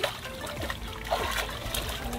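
Clean salt water splashes and sloshes as an armored suckerfish is scrubbed with a brush, short close splashes and trickles with a voice talking over them.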